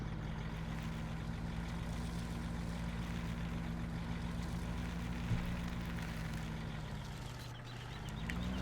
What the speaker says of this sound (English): there's a little rattle to it, like it's idling as well